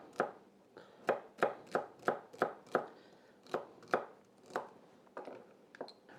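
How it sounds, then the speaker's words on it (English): A knife chops celery stalks into bite-sized pieces on a cutting board, about a dozen crisp, distinct thunks in an uneven rhythm, close and clear with no voices. "I also like to make my celery kind of bite-sized. So I split it down the middle."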